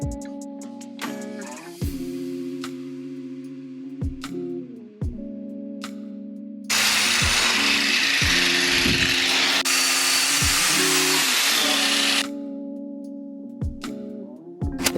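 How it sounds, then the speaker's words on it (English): A power drill bores holes in a Nissan 350Z coilover, the motor whining in repeated bursts that stop and restart, with one long, loud, harsh stretch of cutting through metal in the middle. "and then we're gonna get drilling."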